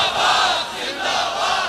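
A large crowd at a religious rally chants slogans for the finality of prophethood, a loud swelling roar of many voices rising and falling in waves.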